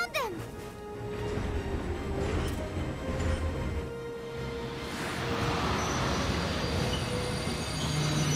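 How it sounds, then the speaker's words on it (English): Train in Valkyria Chronicles 4 rolling in with loud wheel squeal and rumbling carriages, a descending screech at the start and steady mechanical clatter throughout, with game sound around it. "trigger the other train to show up"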